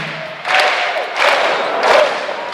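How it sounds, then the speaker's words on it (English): Arena crowd buzzing at a men's college volleyball match, Hawaii hosting Emmanuel, a loud sustained roar that swells in three waves after a quieter start, with no clear voices standing out. "Crowd still buzzing from that last heater from Sakamoko from the service line"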